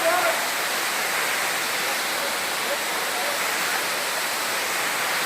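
A waterfall at Chapanala Kund gives a steady, broad roar of falling water that fills the whole stretch evenly, heard from fairly close by.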